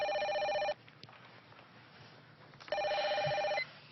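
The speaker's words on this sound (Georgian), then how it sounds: "ტელეფონი რეკავს." A telephone bell rings in two loud bursts with a pause between, heard alone in a quiet room.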